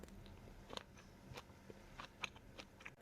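Someone bites into grilled, lightly charred corn on the cob, producing soft crackly crunches and chewing sounds, faint and close, with scattered irregular bites.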